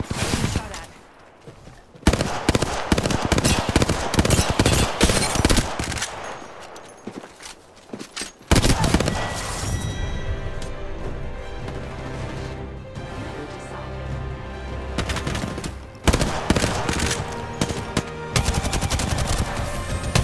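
Dense volleys of automatic gunfire in Apex Legends, loud and close, coming in sustained bursts with short pauses and a brief drop in the middle, mixed with game effects and music-like tones.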